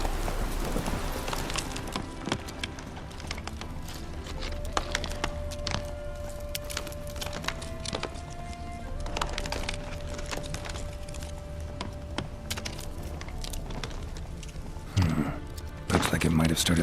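Roach the horse's hooves clop steadily at a walking pace in The Witcher 3, a rhythmic clatter running under game music and spoken dialogue.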